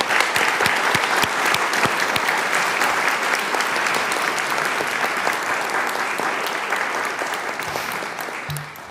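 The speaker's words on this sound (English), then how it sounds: "let's give them a great big round of applause" Sustained applause from a seated audience at a candidate panel, dense and steady throughout, slowly thinning toward the end with no talk over it.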